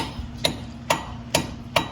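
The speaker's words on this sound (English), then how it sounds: "I had this little baby hammer smacking it in there" A small hammer taps a CV axle shaft out of the hub on a car's front right side: four sharp metallic strikes, evenly spaced about half a second apart, close and clear over a low steady hum.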